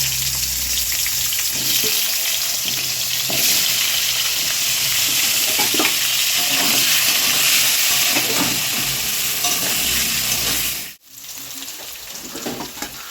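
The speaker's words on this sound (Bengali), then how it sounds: "মেখে এই আলুটা এবার আগে ভেজে নেব।" Potatoes coated in salt and turmeric sizzle and spit steadily in hot oil in a pan, with occasional stirring scrapes, then a brief break near the end before the sizzle resumes.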